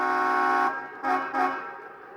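A model train locomotive horn plays through twin Tang Band speakers in a dummy B unit: one long, slightly muffled chord blast, then two shorter toots fading away.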